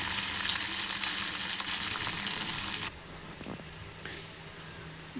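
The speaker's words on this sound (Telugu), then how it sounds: "పచ్చిమిర్చి బాగా ఫ్రై కావాలి." Green chillies frying in a pan for a brinjal pachadi, a loud steady sizzle that drops abruptly to a faint hiss with a few soft clinks about halfway through.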